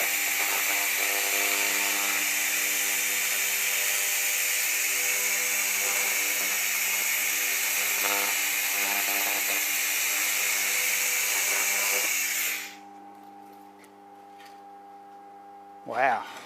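An AccTek fiber laser cleaning machine scans across metal with a loud, steady, high buzzing whine that holds for about twelve seconds and then cuts off, leaving a quiet hum and a brief soft noise at the end.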